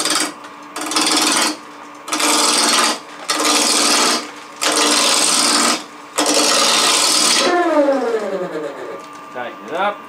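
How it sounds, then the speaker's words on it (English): A spindle roughing gouge cuts a wood blank spinning on a lathe at around 1,000 rpm, giving loud, close rasping bursts in repeated passes with short gaps, then a steady motor hum that winds down in pitch. "Anchoring the tool on my hip. The spindle roughing gouge,"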